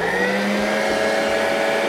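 An electric mixer beats sponge cake batter with lemon zest and vanilla, a loud steady close whirring hum that runs unbroken throughout.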